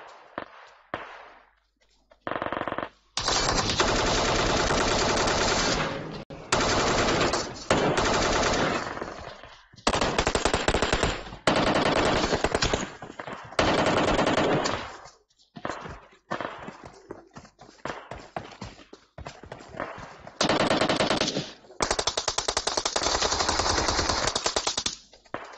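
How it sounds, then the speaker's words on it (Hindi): Bursts of automatic gunfire in PUBG Mobile, loud rapid volleys of shots broken by short pauses, repeated many times, with no talk. "दूर से कोई मार रहा है"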